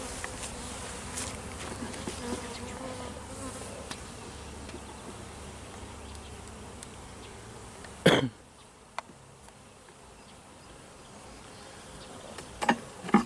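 Honeybees hum in a dense, steady drone from an open beehive with eggs and larvae, the buzz filling the first eight seconds before a sharp cough or throat-clearing cuts in and a quieter stretch follows.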